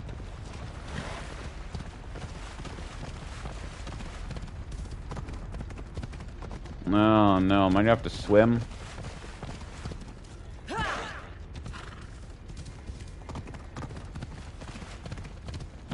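Horse hooves clip-clopping in the video game Assassin's Creed Odyssey, a steady patter running through the whole stretch under game music and wind, with someone talking over it.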